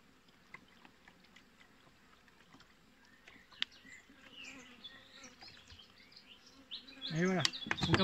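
Honeybees buzz around a hive while being fed sugar syrup, a faint continuous hum with scattered close flybys, swelling louder near the end.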